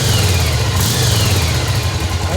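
A Yamaha Virago 1100 motorcycle engine idles steadily with the choke fully off, a continuous low rumble held close and loud throughout, with no talk over it.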